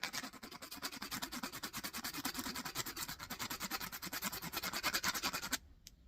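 Quiet, rhythmic back-and-forth rubbing strokes on the exposed copper wire of a car battery charger being scrapped, about a dozen even passes, up close, ending abruptly near the end.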